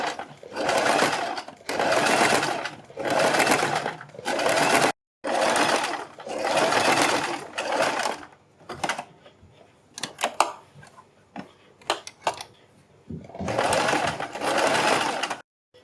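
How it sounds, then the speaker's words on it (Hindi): Sewing machine stitching around a kurti neckline beside buckram, running in loud close bursts of a few seconds each, separated by short pauses filled with faint handling clicks. "बीच में सिलाई लगाने के बाद हम बुकरम के बिल्कुल बराबर में पूरे गले के ऊपर सिलाई लगाएंगे"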